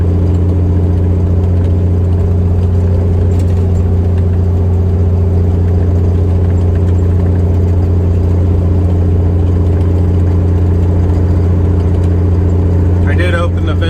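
A cabover truck's engine drones steadily and loudly inside the cab with the window rolled up while driving, with a constant low hum and a person talking over it.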